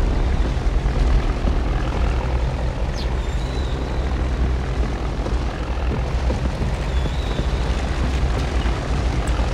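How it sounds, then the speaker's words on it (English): Propeller plane engine in the King Kong video game, a steady loud droning roar that fills the whole stretch without a break, with no talk over it. "Jimmy, get on the plane"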